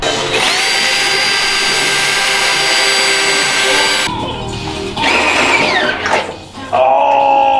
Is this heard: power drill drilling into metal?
yes